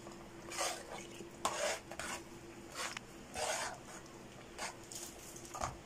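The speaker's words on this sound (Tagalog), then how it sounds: "Haluin lang natin ang haluin." A spoon scraping and stirring red lugaw rice porridge in a pot, in short separate strokes with soft rasping scrapes and faint clinks against the metal, close and fairly quiet.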